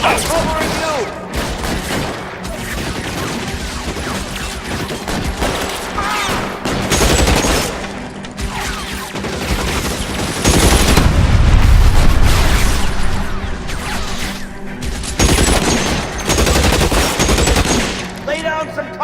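Heavy gunfire in the video game L.A. Noire, continuous machine-gun bursts and rifle shots with booming explosions, loud and close, swelling mid-way, with occasional shouted voices.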